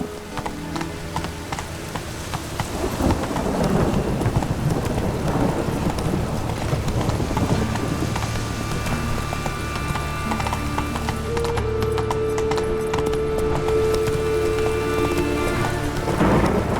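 Rapid hoofbeats from a horse galloping through rain and thunder in The Witcher 3: Blood and Wine, with steady rain and rolling rumbles under the pounding rhythm and sustained tones from the game's music.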